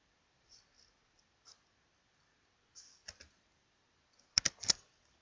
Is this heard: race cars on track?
no